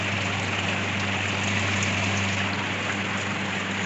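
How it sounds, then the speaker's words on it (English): Water drips and trickles inside a Sansui 105-litre desert air cooler running on low speed, a steady wash of splashing water over a constant low motor hum, close and even. "You can see water dripping"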